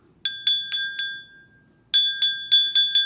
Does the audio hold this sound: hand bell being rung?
yes